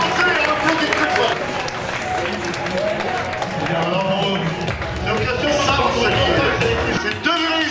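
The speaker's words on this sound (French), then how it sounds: "On applaudit très fort" Crowd applause at a football club parade, steady clapping and cheering blended with a noisy outdoor crowd and an announcer's voice over loudspeakers throughout.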